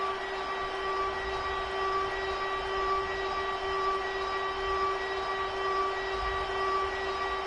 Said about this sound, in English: siren is crazy